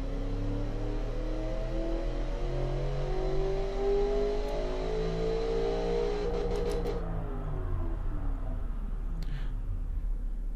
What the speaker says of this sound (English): now this is indeed a very quiet engine